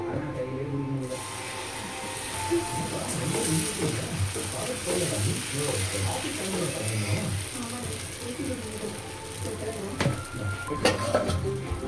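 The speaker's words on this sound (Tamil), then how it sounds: "அதில் தோசை ஊற்றிக்கிறேன் சட்டி காயுது" Dosa batter poured into a hot pan and sizzling, a steady crackling fry with scraping and clinking of a utensil against the pan, while a voice talks in the background now and then.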